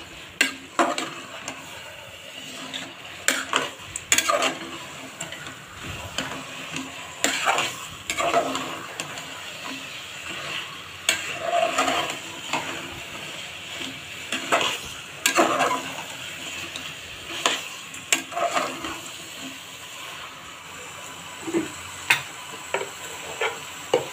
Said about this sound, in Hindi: चिकन को भी इस मसाले में हम फ्राई कर लेंगे अच्छे से।